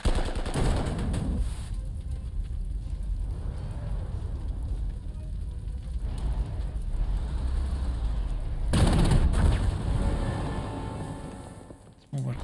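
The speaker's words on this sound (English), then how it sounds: "Artillery. Flak is going over here." Artillery and flak fire in the video game Panzer Corps 2, rapid rattling bursts and booms in the distance, with a louder barrage near the start and again toward the end, over a constant rumble.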